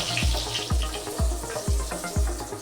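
Slices of pointed gourd (potol) fry in hot oil with salt and turmeric, a steady close sizzle broken by regular low bubbling pops about twice a second.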